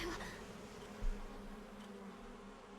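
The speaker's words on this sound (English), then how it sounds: "It's like mosquitoes everywhere." A dense swarm of insects drones continuously in a Honkai Star Rail scene, a steady close buzzing with one soft low thump near the start and no talking.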